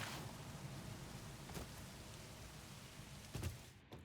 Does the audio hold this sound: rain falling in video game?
yes